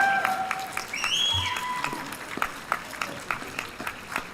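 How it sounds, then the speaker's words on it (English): Graduates and audience applauding at a university commencement ceremony, scattered clapping and a few whistles in a large hall, moderately loud and uneven, with sharp individual claps standing out near the end. "Graduates, would you please rise and applaud those who are all here to support you tonight?"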